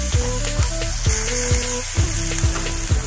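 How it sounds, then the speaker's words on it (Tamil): Finely chopped medium tomato sautés in a pan with a steady sizzle, and a spoon stirs and scrapes through it in regular strokes about every half second. "அடுத்தது பொடி பொடியாக நறுக்கி வச்ச ஒரு மீடியம் சைஸ் தக்காளி. நல்லா வதக்கி விடுங்க"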